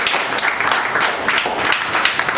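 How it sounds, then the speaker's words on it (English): A crowd applauds for a secondary school team at an English debate contest, a dense and fairly loud wash of clapping that holds steady throughout the short stretch. "Let's clap for them."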